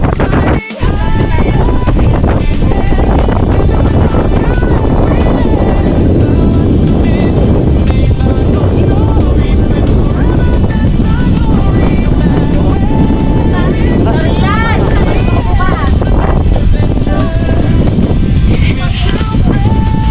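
Strong wind on a mountain buffets the microphone in a constant loud rush, with faint background sounds beneath it.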